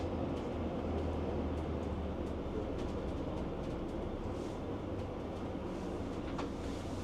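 A regional train rumbles steadily as it slows into Wolfenbüttel station, heard from inside the carriage as a constant low roar with faint rattles and clicks.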